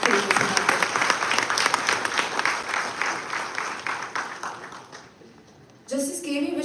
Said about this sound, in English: Can we please have a round of applause for Justice K.V. Vishwanathan?